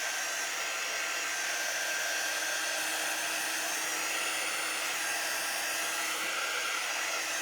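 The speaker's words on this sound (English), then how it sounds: "I'm going to quickly dry my chalk surface here." A hair dryer blows steadily on a chalk surface, a loud, unbroken whooshing whir that runs throughout with no other sounds or voices.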